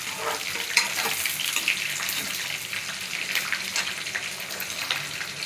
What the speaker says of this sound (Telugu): మంచిగా ఎండుమిర్చి ఎక్కువ మాడకుండా ఫ్రై చేసుకోండి.